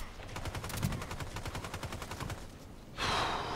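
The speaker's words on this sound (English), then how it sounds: "Why are you shooting at me?" Rapid automatic gunfire in the video game Contract Wars, a quick burst of evenly spaced shots followed by a louder, noisier blast near the end.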